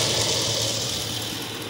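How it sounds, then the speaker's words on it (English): A 2021 Ford F-150 XLT 4x4 with a 5.0 V8 and its catalytic converter cut out idles steadily nearby, a constant low rumble with hiss and no voices over it. "You can hear the engine running right now."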